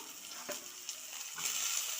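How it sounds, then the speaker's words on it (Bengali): Chopped onion sizzles softly in oil, a steady hiss with a few light stirring clicks, growing slightly louder toward the end. "পেঁয়াজ কুচনোটাও আমি আগে ভেজে নেবো"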